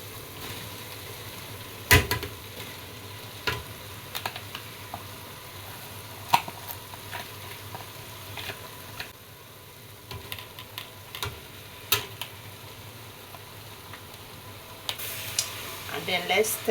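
Vegetables fry quietly in a pan for a sauce, a soft low sizzle broken by scattered clicks and scrapes as they are stirred, with a few sharper knocks near the start and end.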